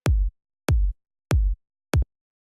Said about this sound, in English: Basically what I have going on is I have this kick here.